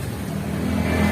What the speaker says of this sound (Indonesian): Kipas-kipas radiator juga bekerja dengan normal